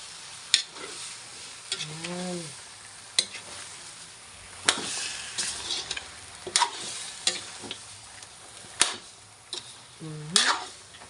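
Stirring tuna head sinigang with miso in a pot, with a ladle scraping and knocking against the metal at irregular moments and a faint simmer beneath, close by, with no talk.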